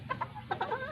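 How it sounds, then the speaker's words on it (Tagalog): A rooster kept in a rural backyard gives a short run of clucks, two quick calls followed by a few more close together, near and fairly clear over a low background hum. "Tapos ayun yung isang lalaking manok."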